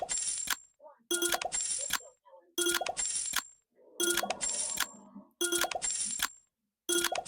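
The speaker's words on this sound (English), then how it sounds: "I fall asleep listening to this chime as I let my robot play" Repeated bright chimes from an online Mines gambling game played automatically by a bot, ringing in short bursts about every second or so with brief gaps, clear and moderately loud, with no talking.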